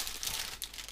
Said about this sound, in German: Ja, das könnt ihr mal auspacken, einer von euch.